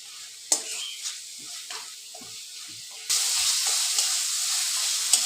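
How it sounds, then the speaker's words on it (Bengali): Spice paste fries in oil and is stirred for a Bengali pabda fish tel jhal curry. Scraping spoon strokes come first, then a louder continuous sizzle takes over halfway through, close to the pan. "এবার আমি আরেকটু তাও কষিয়ে নেবো, আরও 2-1 মিনিট মতো ভালো করে কষিয়ে নেবো।"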